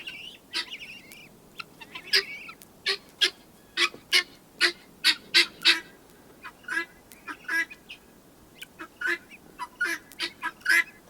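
Guinea fowl on a homestead give a rapid series of harsh, repeated rhythmic calls, loud and fairly close, with shriller cries mixed in and no talking.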